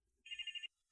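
Toy mobile phone ringtone: a bright electronic ringing tune of about half a second, pulsing in quick repeated beats, close and clear, with a faint voice starting at the end.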